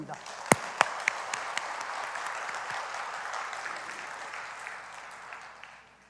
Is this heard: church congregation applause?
yes